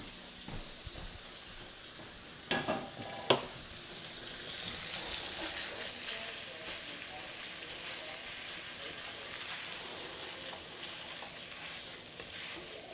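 Ground mild Italian sausage frying in a pan, a loud, continuous crackling sizzle that swells and holds steady after a couple of sharp knocks at the start.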